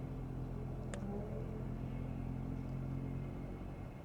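A Ford Mustang idles with its exhaust valve opened, a steady low rumble with a faint high whine, heard quietly and at some distance throughout, with a brief click near the start.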